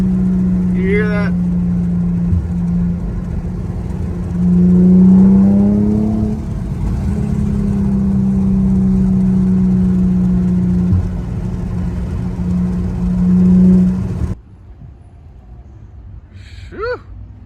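An Infiniti Q50 engine runs with a steady low hum and swells into several revs, the loudest around the middle. A person talks over it before the engine note drops off near the end.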